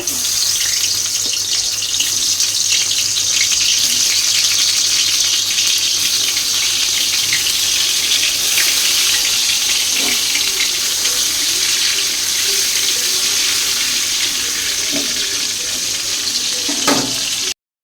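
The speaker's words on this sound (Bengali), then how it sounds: "এদিকে তেল গরম হয়ে গেছে, আর আমি বেগুনগুলোকে ভেজে নেব" Eggplant pieces frying in hot oil, a steady broadband sizzle that holds loud and close throughout with a few faint clinks near the end.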